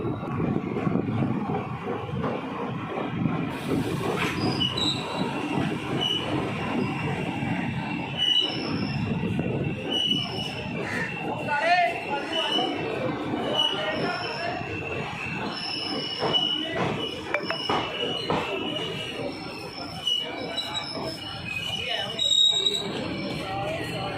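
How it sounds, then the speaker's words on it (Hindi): The Ambala to Sri Ganganagar Intercity Express (14525) runs along the line toward Rajpura Junction, a continuous rumble of carriages with metallic wheel squeals and rattles, heard from on board. "सताईस किलोमीटर का डिस्टेंस कवर करने के बाद अब हमारी ट्रेन पहुंची है अपने सेकंड हॉल्ट"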